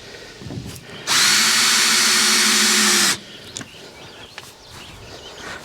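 Power drill driving screws: a single loud, close burst of high whining motor lasting about two seconds, framed by quieter handling clicks and knocks.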